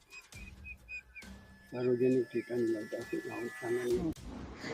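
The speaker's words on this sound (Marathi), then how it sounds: "पक्षी येतात, पाणी पितात." Pigeons coo repeatedly in low, throaty phrases close by at a bottle-gourd water pot set out for birds, with brief chirps and a voice speaking earlier in the clip.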